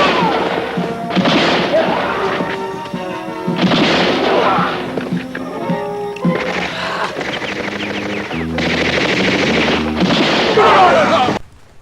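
Repeated heavy Gnasher shotgun blasts and thuds ring out during multiplayer combat in Gears of War 4, loud bursts in quick succession over game effects, with voices talking alongside.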